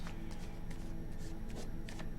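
Tarot cards are shuffled close by in soft, rapid riffling flicks, a continuous papery rustle lasting about two seconds.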